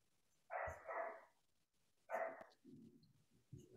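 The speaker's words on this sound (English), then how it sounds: "hopefully you all can't hear the barking of my neighbor's dogs too much" Neighbor's dogs bark several times at a distance, short muffled bursts in two groups separated by pauses, faint against a quiet indoor room.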